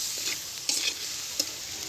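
Spice masala being stirred and fried in a pan for a small-fish and spinach curry, a steady loud sizzle with a few sharp scraping strokes from the stirring, no voices.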